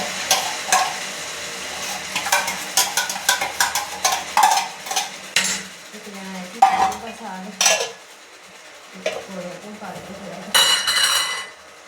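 Saag being tempered in a pot on a stove, with repeated utensil scrapes, clinks and stirring strokes over a low sizzle, close and fairly busy, with brief pauses.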